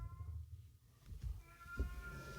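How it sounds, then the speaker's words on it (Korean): A cat meows indoors, with a few short, fairly quiet cries spaced across a couple of seconds against a low background hum. "고양이가 많이 울고 있는데 양해해 주시고요."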